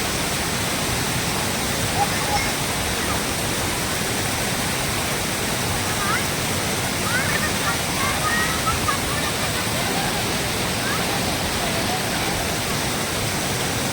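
Continuous broadband rush of a river flowing near Basistha Temple in Guwahati, Assam, steady and fairly loud throughout with no breaks.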